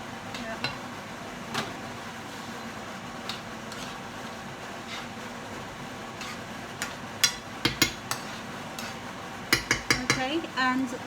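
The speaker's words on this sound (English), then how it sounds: "now it's time for me to put it in the prawn" Prawns added to a pan of fish and stirred for a keto meal, with a quiet sizzle and metal clinks of utensil on pan that grow more frequent and louder near the end.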